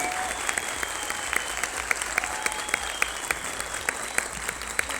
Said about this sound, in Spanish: Por favor, un aplauso para Fernando.